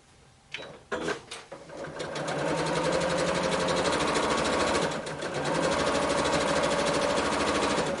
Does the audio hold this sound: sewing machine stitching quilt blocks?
yes